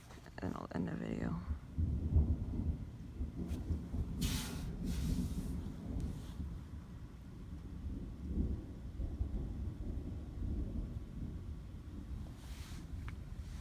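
Rumbling thunder from a storm passing overhead, with rain easing to a drizzle, rolls on as a broad, continuous low roar through most of the recording, swelling and fading under wind noise on the microphone with no speech.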